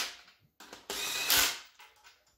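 A cordless impact wrench fires in short bursts while assembling parts on a turbo 5.3 LS Ford Ranger 4x4 build, loud and close, with brief gaps between rattling hammering runs.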